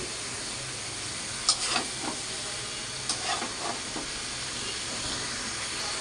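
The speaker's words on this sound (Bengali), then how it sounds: "লবণ হলুদ দিয়ে ভাপিয়ে রাখা কাঁঠালগুলো দিয়ে ভালো করে কষিয়ে নেব।" Steamed raw jackfruit stir-fried with shrimp in a pan, a constant close sizzle with a few soft spatula scrapes and stirring knocks over the hiss.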